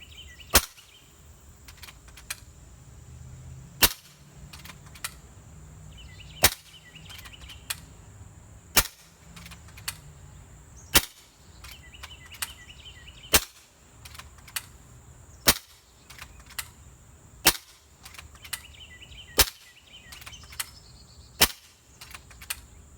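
A tuned Kral Puncher Breaker PCP air rifle on medium power fires 15.89 grain JSB pellets, giving sharp, fairly quiet cracks roughly every two to three seconds. About ten shots sound over a low hum and faint insect-like chirping.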